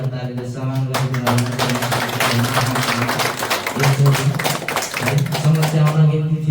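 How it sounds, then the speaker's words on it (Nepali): A church congregation applauds in a strong, sustained burst of many hands clapping, crisp and close, while a voice carries on beneath the clapping. "सबैले पिताको लागि जोरदार तालीले सम्मान गरिदिनु।"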